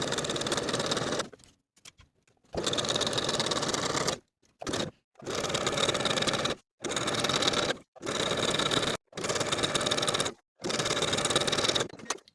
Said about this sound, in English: I'm going to be using a triple zigzag stitch